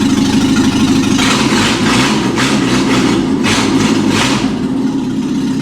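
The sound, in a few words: drift car engine being started and idling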